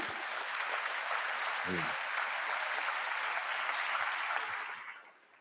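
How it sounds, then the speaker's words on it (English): Graduation commencement audience clapping steadily in a large hall, a dense sustained wash of applause for about five seconds before tapering off at the end. "Yes, go ahead and clap."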